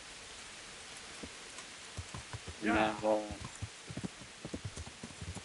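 Rain falls in the Kingdom Come Deliverance video game as a soft, steady hiss, with scattered thuds like hoofbeats. Someone talks briefly over it in the middle.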